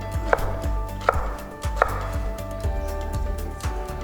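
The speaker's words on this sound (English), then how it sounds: "Now we will cut the pineapple meat." A kitchen knife chops pineapple flesh into one-centimeter cubes during a Thai cooking lesson. The blade strikes the board in a steady run of sharp, evenly spaced chops, close and clear, over a faint background hum.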